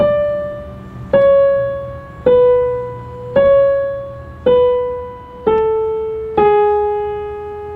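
Slow piano rendition of a theme from La La Land, seven single notes or soft chords struck about a second apart, each ringing and decaying, clear and solo with no voices.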